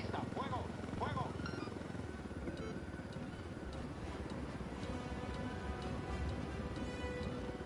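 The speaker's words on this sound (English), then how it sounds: "Oh, I got another helicopter behind me." A helicopter in the video game Ghost Recon Wildlands whirs and thumps steadily over game gunfire and clicks, a continuous rotor drone at moderate level with someone speaking over it at the start.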